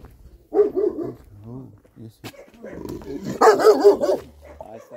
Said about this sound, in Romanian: Ne salvați pe noi de câini aceștia?